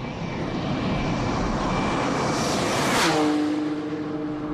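A Ferrari Enzo supercar roars past at over 350 km/h during a top-speed test run, a loud sustained engine rush swelling to a close pass near the three-second mark before the pitch drops away.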